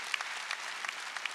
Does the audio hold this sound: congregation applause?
yes